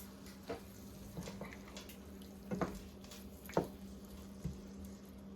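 Coconut milk goes into a pot of mackerel sancoche (run down) cooking over medium-low heat, giving quiet squishy drips and splashes with a faint low simmer beneath, and no one speaking.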